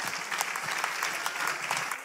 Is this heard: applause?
yes